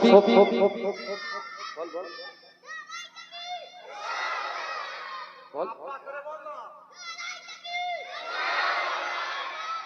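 Large religious gathering crowd shouting takbir in reply to a preacher, loud overlapping voices rising in several waves, with someone speaking over a microphone between them.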